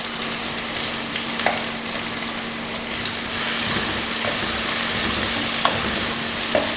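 Onion and green chilli sautéing in a pan for Kerala moru kachiyath, with a continuous close sizzle that swells about halfway through and a few faint stirring clinks. No voices.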